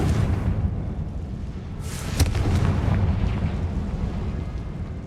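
A Confringo blasting spell in Hogwarts Legacy, a rumbling explosive burst with a sharp crack at its peak over a loud, sustained roaring game soundscape.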